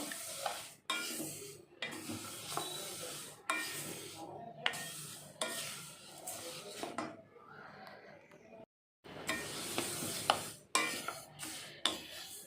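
Urad dal roasting in a dry pan while being stirred, with repeated scraping strokes and soft rattling of the lentils, broken by short pauses, fairly quiet and close.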